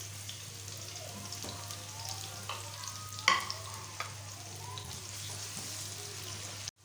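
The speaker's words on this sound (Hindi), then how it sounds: "तो पहले प्याज को फ्राई कर लेते हैं।" Onions fry in a pan for a potato and egg tikki recipe, giving a quiet steady sizzle with occasional stirring clinks, close and continuous with no talking.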